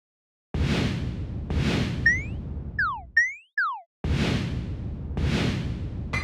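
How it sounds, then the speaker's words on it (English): Sound effects in a Unity 2D space game, where the player's ship is hit and destroyed, give several loud whooshing blasts with a cluster of quick sliding laser-like zaps in the middle, all sharp-edged and close. "And player getting destroyed also has a sound."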